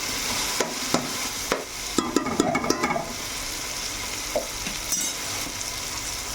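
Masala fries in a pan while a spoon stirs it, a constant sizzle broken by scraping strokes and small clatters bunched in the middle, then occasional single scrapes near at hand.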